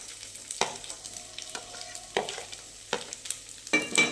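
Onion goes into a pan where curry leaves are already frying. A soft sizzle runs underneath, broken by a few distinct stirring scrapes and clatters, close by and fairly quiet, with no talk.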